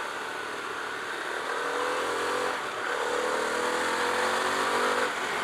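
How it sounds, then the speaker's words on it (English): A Harley-Davidson Pan America Special motorcycle engine revs steadily higher, its pitch climbing twice as it accelerates, with a brief dip for a gear change and wind rushing throughout. "This engine is awesome. It sounds awesome too."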